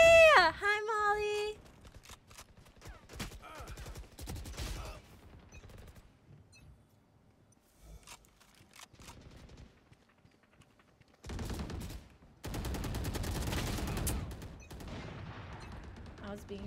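Bursts of video game gunfire, rapid automatic volleys crackling in loud clusters early on and again in a sustained stretch near the end, with a player's voice talking over parts of it.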